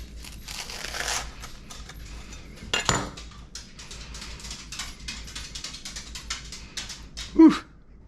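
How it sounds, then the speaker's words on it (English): Knife slicing through a tuna melt sandwich to cut it into triangles, giving crisp crunching and scraping strokes with clinks of cutlery on a plate and a loud knock near the end. "so we're going to cut it into triangles here"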